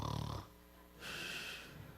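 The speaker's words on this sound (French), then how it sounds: "il ronfle comme un cochon" A sleeping man snores loudly, one heavy rasping snore at the start followed by a quieter breathy inhale, with no talking.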